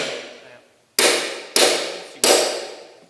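A hammer strikes a punch to mark a sheet of aluminium for metal artwork, three sharp, loud metallic blows about half a second apart, each ringing out and decaying, after a quiet lead-in with faint background sound.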